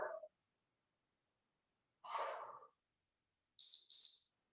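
A workout interval timer gives two short, high, clear electronic beeps in quick succession near the end, after faint breaths and a sigh in otherwise quiet surroundings.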